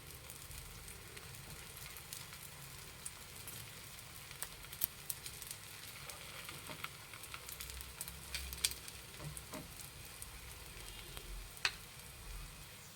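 Ragi rotti, a finger millet flatbread, sizzling in oil on a hot pan: a continuous close crackling hiss with occasional sharper pops and light scraping, no one speaking.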